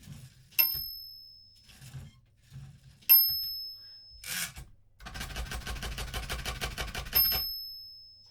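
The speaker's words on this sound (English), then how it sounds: "Nice bell sound." The bell of a Groma Kolibri typewriter dings clearly three times at intervals, with the carriage rasping and sliding between the rings, all close and fairly quiet.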